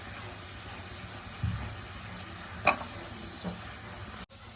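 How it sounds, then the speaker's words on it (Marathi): Khoa and grated coconut being stirred and roasted in a pan over a low flame: a soft, steady frying hiss with a few faint scrapes and knocks of the spoon, quiet and close, with no talking. "तोपर्यंत आपल्याला मंद आचेवरती ते परतायचंय"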